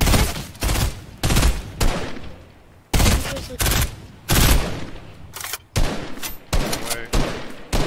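Rapid bursts of gunfire in Fortnite crack out in repeated volleys, loud and close, alternating with short pauses, while players exclaim briefly over the shooting.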